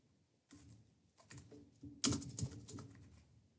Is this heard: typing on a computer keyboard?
yes